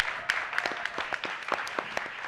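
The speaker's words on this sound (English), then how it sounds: "another big round of applause for our first 5 teams today" Audience at a regional university pitch competition claps for the first five teams, a thin scattering of sharp individual claps over a soft room background, fairly sparse and moderately close.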